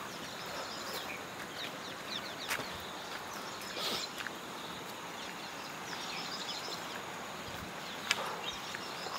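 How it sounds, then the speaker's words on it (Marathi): Birds chirp through a quiet rural morning in the Konkan countryside under an overcast, rain-threatening sky, with scattered faint calls and a rooster-like cluck over a steady soft outdoor hush. "पक्ष्यांचा किलबिलाट चालू आहे"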